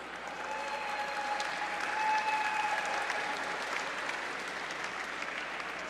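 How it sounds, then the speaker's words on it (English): Audience applause at the Life Directions Spark of Hope Gala greets an honoree, the co-founder and CEO of Imagine Entertainment, with a steady, full round of clapping that swells slightly midway and holds for several seconds, with faint tonal hum behind it. "thank you for your gracious applause"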